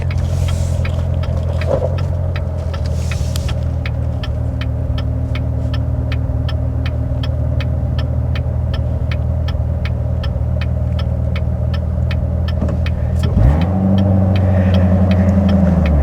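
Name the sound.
Chevrolet Corvette C7 Z06 manual engine during night drive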